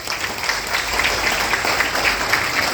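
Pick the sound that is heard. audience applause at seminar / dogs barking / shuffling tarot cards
audience applause at seminar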